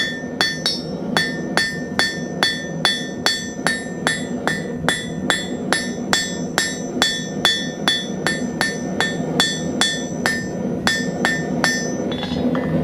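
A blacksmith's hammer strikes hot steel to draw a flat taper for a scroll: a long, steady run of about thirty bright ringing blows at an even rhythm, loud and close, with no talk.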